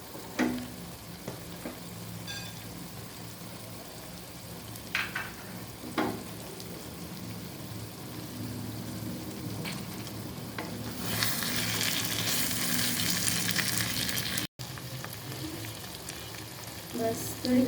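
Dhaba-style chicken curry cooking in a pan as mint leaves go in: a soft, steady sizzle with occasional stirring scrapes and taps, rising to a louder hiss for a few seconds near the end.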